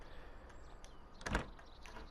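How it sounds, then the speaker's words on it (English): A train cab door in Train Sim World opens with a single brief clunk and slide near the middle, standing out over a quiet, low ambient background. "So you have to open the window and then open the door, but away on the inside"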